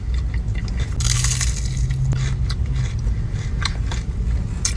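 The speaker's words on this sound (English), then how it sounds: "I'm gonna try the waffle fries by themselves." Waffle fries bitten and chewed close by in a car, a few crisp crunches followed by steady soft mastication, with no voices.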